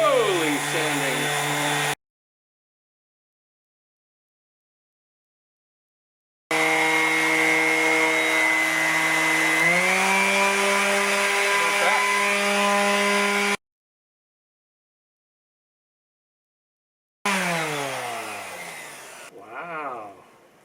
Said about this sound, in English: Very, very slowly sanding.